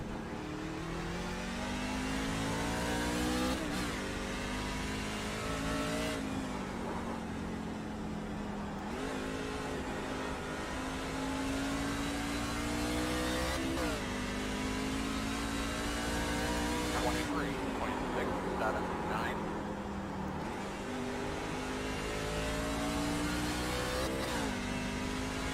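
Race car engine in the iRacing simulator revving steadily with repeated upshifts and pitch climbs, loud and continuous throughout, with a voice talking over it at times.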